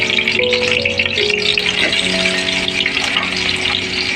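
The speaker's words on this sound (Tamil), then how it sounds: "லைட்டாக உப்பு போட்டுவிட்டு கொஞ்சம் வதக்க போகிறோம்." Onions with a little salt sizzle loudly in a pan while being sautéed, a steady close frying hiss with light stirring sounds throughout.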